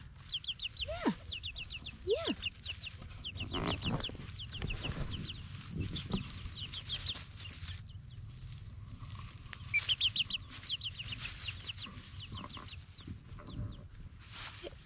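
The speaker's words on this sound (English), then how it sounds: "I think that one's a rooster now." Chickens in a garden, rooster and small hens, clucking and chirping repeatedly at close range over steady background noise, with a few louder calls standing out.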